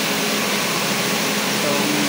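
Industrial knitting machine running steadily on a factory floor, a continuous loud whirring mechanical drone with a faint clatter, while someone speaks over it.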